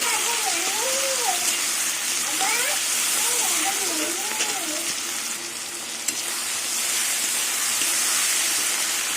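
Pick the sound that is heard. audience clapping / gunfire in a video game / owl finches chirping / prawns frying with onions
prawns frying with onions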